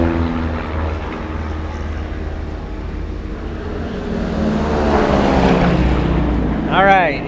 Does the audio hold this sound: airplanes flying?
yes